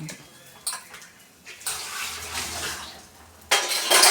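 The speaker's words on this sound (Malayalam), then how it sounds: "ഇച്ചിരി കൂടെ വെള്ളം ഇട്ട് കൊടുക്കാം." Water is poured into a simmering pot of Kerala-style fish curry in a clay pot, with short splashy bursts and a louder, steadier rush of pouring near the end, close by.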